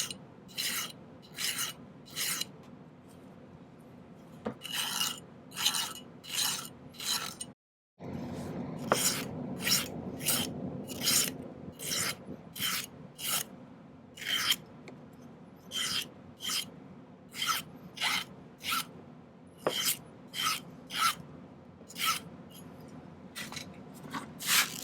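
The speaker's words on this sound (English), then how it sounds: "I'm going to file the overall thing a little bit thinner on one side" A hand file rasps across a silver pendant in steady back-and-forth strokes, close and crisp, running nearly the whole time with one brief pause partway through.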